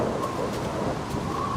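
Steady rain falls in Minecraft, a dense, even hiss of drops that holds at the same level throughout, with a low rumble beneath it.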